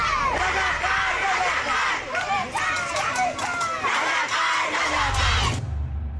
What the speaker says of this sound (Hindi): लोग सड़कों पर उतरकर ये नारे चिल्लाने लग गए